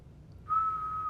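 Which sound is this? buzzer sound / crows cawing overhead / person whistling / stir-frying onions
person whistling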